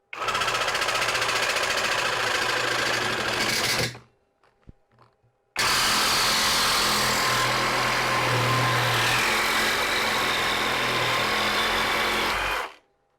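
A Parkside cordless alligator saw cuts an aluminium shower profile with a loud, steady buzzing rasp. It runs for about four seconds, stops briefly, then cuts again for about seven seconds, close up with no talk.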